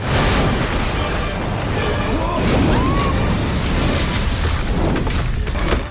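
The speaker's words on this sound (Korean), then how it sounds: "거대한 몸뚱이는 절벽으로 추락해 폭발하고" A giant anaconda's body plunges off a cliff and explodes in a film scene, giving a loud, continuous crashing roar with a heavy low rumble that stays dense and sustained for several seconds.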